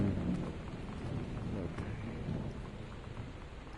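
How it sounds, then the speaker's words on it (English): Thunder rumbles low and heavy over steady rain in Gone Home, a long rolling storm that slowly fades, with a single brief spoken word partway through. "when the thunder picks up"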